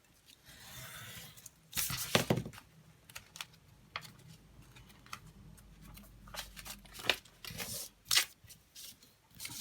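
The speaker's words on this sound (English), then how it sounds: "I'm going to cut this rough edge off here" Paper cutting as the rough edge is trimmed off journal pages, heard as a scattered run of crisp snips and rustles, some louder bursts, fairly close with no talking.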